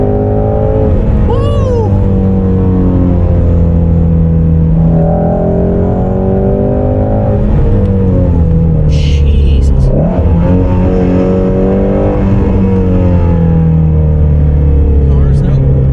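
A Ford Mustang Shelby GT350 engine revs hard and loud under throttle, its pitch sweeping up and down through gear changes with a brief whooping shout from inside the car.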